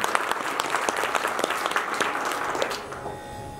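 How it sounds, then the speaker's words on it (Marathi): An audience at a memorial music concert claps steadily in a full, continuous wash of applause that softens slightly toward the end. "साथी करता परत एकदा टाळ्या झाल्या"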